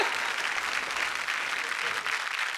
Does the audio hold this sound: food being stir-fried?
no